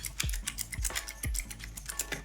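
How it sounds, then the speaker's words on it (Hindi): Keys clacking on a Cosmic Byte computer keyboard in a budget editing and gaming room, typed in an irregular quick rhythm close by with periodic heavier low thumps, no voices. "ये है एक कॉस्मिक बाइट का कीबोर्ड"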